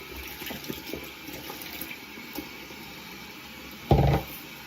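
Water runs from a bathroom tap while a face is wetted before a shave, a low steady trickle under faint handling noise, then a brief louder splash near the end.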